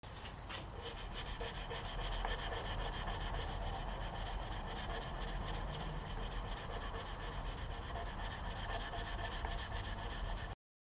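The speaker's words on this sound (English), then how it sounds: "I'll go over them again with 2000 grit. This actually really sort of polishes them up nice." Fine 2000-grit sandpaper rubbing over the metal frets of a guitar during a fret level and setup, a steady continuous scratchy friction with no pauses, close and fairly quiet, heard alone without talk.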